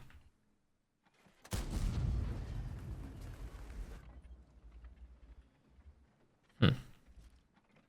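A tank cannon in a tank battle video game fires with a heavy deep boom that rolls and fades over a few seconds, followed later by a second sharper, shorter blast.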